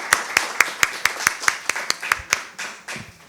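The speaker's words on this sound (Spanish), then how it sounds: "muy bien, un aplauso" Rhythmic, steady clapping from a small group of teachers at a conference greeting, about a dozen sharp, evenly spaced claps at close range with no voices over them.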